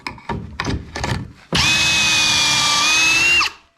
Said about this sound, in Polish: Zakładamy to w miejscu, w którym chcemy wywiercić otwory kieszeniowe.